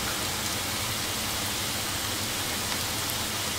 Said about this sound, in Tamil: மஞ்சள் தூள், சீரகத்தூள், பச்சை மிளகாய் போட்டு வதக்கிருக்கோம்.